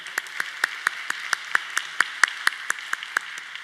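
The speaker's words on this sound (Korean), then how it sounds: "우리 사랑과 격려의 박수 하겠습니다." A church congregation claps in a steady, even rhythm, roughly four or five sharp claps per second, clear and moderately loud in a reverberant hall with no talking over it.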